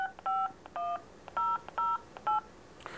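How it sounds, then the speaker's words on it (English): Touch-tone keypad dialing on an ISDN test set placing a call to a central office test line: a quick sequence of clean, bright DTMF beeps, some short and some longer, in an uneven rhythm over a quiet line hiss. "I'm going to dial the number for the local TPI test number in my central office."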